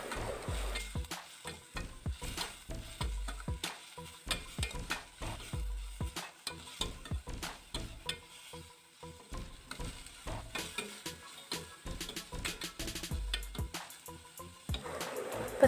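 Sliced onions with salt sauté in a pan, a soft low sizzle broken by repeated rhythmic scraping and knocking of a spoon stirring against the pan, close and fairly quiet, with no talking.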